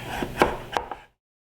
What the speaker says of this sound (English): So basically just cut it in half and then just cut it in half again.